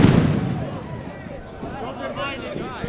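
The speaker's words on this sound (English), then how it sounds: "It's like we just had a flashbang." A flashbang grenade goes off at a violent Denver street protest, a loud blast at the very start that rings and decays over a few seconds amid crowd noise, with a fainter pop at the end.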